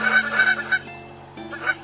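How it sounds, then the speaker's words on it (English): Geese honking in the video game Endless Migration, several loud calls in quick bursts over a steady electronic hum, with a short pause before one more honk near the end. "It's not easy protecting a group of 16 geese for 15 seconds."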